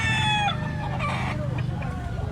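A rooster crows loudly up close, followed by scattered clucks and further crowing from other birds nearby over a steady low background rumble.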